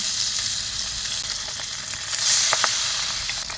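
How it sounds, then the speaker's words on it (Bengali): Pabda fish frying in oil in a wok, a steady broad sizzle that swells briefly midway, with a few soft taps and crackles over the continuous hiss. "কড়াইয়ে আরেকটু তেল দিয়ে একে একে পাবদা মাছগুলো ভেজে নিচ্ছি"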